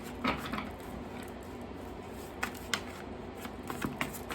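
Soft riffling and flicking of playing cards being shuffled, quiet and close, with a few sharper snaps as the cards fall together.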